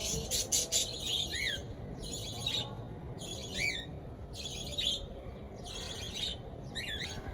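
Pet lovebirds give repeated sharp squawks and chirping calls in short bursts every second or so, fairly close, over a steady background hiss on a rainy day, with no talking.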